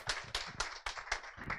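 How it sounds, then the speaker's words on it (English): Applause from an audience at a museum grand opening, a short burst of clapping with uneven surges, fairly faint and alone without voices. "So please give her a warm round of applause."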